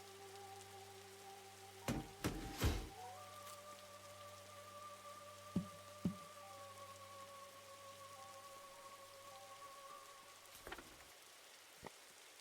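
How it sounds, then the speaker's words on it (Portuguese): Light rain falls in a survival video game, a faint steady patter under a low droning tone with a few sharp clicks and knocks scattered through. "Tá chovendo."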